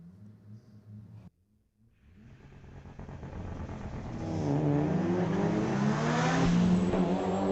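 A Mitsubishi sport compact launches down a drag strip at a street-legal night meet, its engine note rising steadily from a muted idle into a loud, climbing roar with audible gear-stepped revving.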